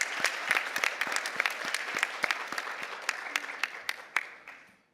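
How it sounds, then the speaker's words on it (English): Audience at the closing of a health conference in the Cayman Islands applauding, a scattered round of sharp individual claps that thins out and fades to silence near the end. "We have to give ourselves a round of applause."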